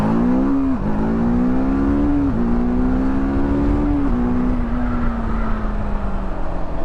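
A TVS Apache RTR 310 motorcycle engine drones loudly and steadily while riding, its pitch climbing and then dropping back several times as the revs rise and fall between gears. No voices are heard.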